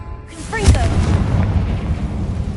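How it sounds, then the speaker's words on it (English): A Confringo fire spell bursts in Hogwarts Legacy, a single booming blast with a whooshing flare that trails into a rumbling, crackling tail under steady game ambience. "Confringo."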